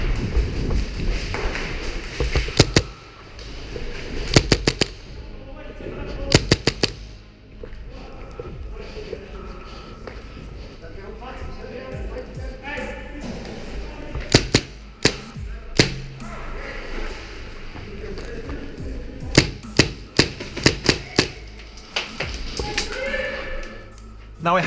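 A Tippmann M4 HPA blowback airsoft rifle fires in irregular bursts of sharp, close cracks and clattering bolt thuds, with quieter handling noise and a voice talking between shots.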